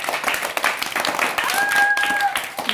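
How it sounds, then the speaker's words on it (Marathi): Children in a classroom clap for a classmate, a dense patter of small hands running through the whole stretch, with young voices and a brief high whistle-like tone partway through. "सर्वांनी तिच्यासाठी जोरात टाळ्या वाजवायच्या।"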